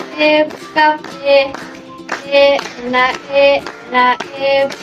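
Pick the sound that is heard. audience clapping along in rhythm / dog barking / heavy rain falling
audience clapping along in rhythm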